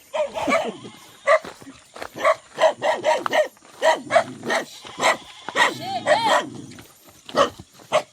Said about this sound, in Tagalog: Merong tatlong gwardiya. Gwardiya na tuta.